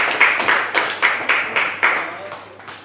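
A classroom audience claps for a presenting student group, a close, loud run of clapping that falls into steady rhythmic beats about four per second before trailing off.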